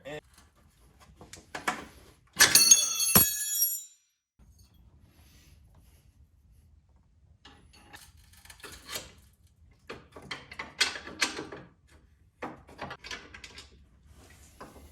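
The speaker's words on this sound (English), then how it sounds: "we're gonna have to use a regular wrench to get on there" A hand wrench works a nut on the motor and transmission mount of a Kawasaki KRX 1000 UTV, giving scattered close metallic clicks and scrapes, with one loud rattling burst early on.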